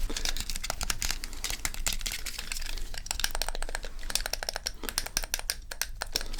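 The light, plastic buttons of a small battery-powered motion-sensing game controller are pressed in rapid bursts of crisp clicks. The clicks are close and dense, with short pauses between the flurries.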